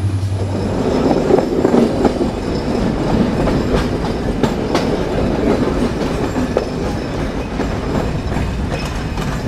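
A train entering Poradah railway junction in Bangladesh rumbles steadily with clickety-clack of wheels over rail joints and occasional squeals, loud and continuous as if heard from on board.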